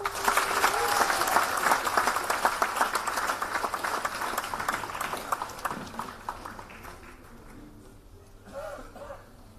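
A convocation ceremony audience applauds and cheers for a speaker called to the stage, dense clapping rolling loudly for several seconds before gradually thinning out, with scattered voices under it.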